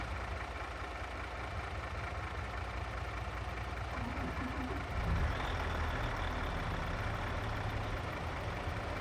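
A heavy truck in Farming Simulator 22 drives down off a flatbed trailer, its engine a steady low rumble throughout that swells and grows louder about halfway through as it rolls off.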